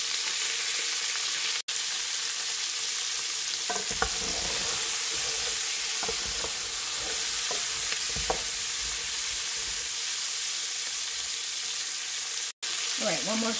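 Beef bones for homemade bone broth sizzle and fry in a pot while being stirred, a steady loud hiss with scraping clatters of the spoon against the pot throughout.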